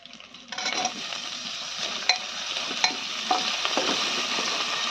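Tomato with ginger, garlic and green chili paste frying and stirred in a pot for chicken soup: a steady close sizzle with repeated scraping strokes and occasional clinks of the spoon against the pan.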